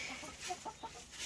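Backyard chickens cluck in a quick, uneven series of short calls, fairly close and moderately loud over a soft outdoor hiss.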